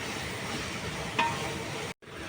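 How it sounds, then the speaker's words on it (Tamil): Tomatoes sauté in hot oil with a steady, even sizzle close by, a faint clink partway through and a brief drop-out near the end. "தக்காளியை போட்டு நல்லா எண்ணெயில் வதக்கி எடுக்கணும்"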